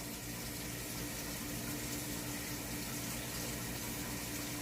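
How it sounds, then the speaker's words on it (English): Water runs in a steady, even stream into the bottom of a pan, with a continuous splashing rush throughout; no voices. "some water to the bottom of the pan"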